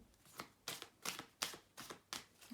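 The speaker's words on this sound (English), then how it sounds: "Just give the cards a last shuffle here" A deck of tarot cards being shuffled during a reading, six soft crisp riffling bursts in a steady rhythm, close and quiet with no voices.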